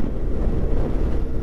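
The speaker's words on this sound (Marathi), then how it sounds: "जाम सुसाट सुटली हवा," Strong wind buffets the microphone at a roadside stop during a long-distance motorcycle ride, a loud, continuous low rumbling roar with no voices.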